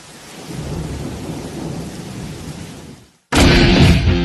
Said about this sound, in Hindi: बारिश भी बहुत हो रही है